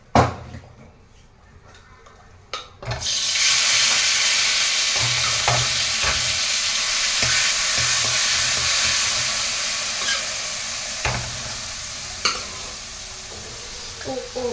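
Grated carrot hits hot ghee in a kadhai for gajar halwa. After a quiet start with a few clinks, a loud sizzling hiss bursts in and carries on under repeated stirring and scraping strokes.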